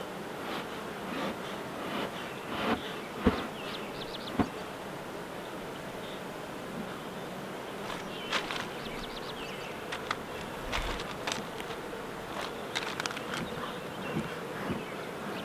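Continuous low droning of a mass of honeybees in a strong hive, fairly quiet and even, with occasional light knocks and rustles on top.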